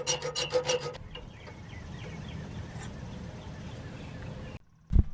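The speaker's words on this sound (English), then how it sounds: "This time I'm using a hacksaw. I found this much easier to use than the tin snips I was using earlier." Hacksaw cutting through a metal brake line on a car front brake job: a quick run of rasping back-and-forth strokes at the start, then quieter scraping and handling noise, ending with a brief knock.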